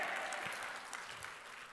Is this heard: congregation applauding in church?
yes